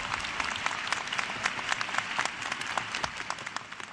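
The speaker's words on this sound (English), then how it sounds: "I'm giving you an opportunity to clap for them again." Graduation ceremony crowd clapping for honorees at a CUNY commencement, dense sustained applause from a large audience, loud and even across the whole stretch.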